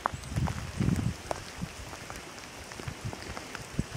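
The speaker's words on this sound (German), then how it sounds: "Von gutem Wetter zu leichtem Regen." Light rain falls outdoors by a lake in the woods, scattered patters and drips close by, with some rustling and soft footstep-like thuds early on.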